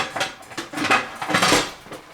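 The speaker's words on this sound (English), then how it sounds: "I'm going to take off the gauge because I don't really need it right now" Metal clinks and scrapes as the gauge is removed from a pressure canner, with a quick series of close, bright clattering knocks and rattles, alone without talk.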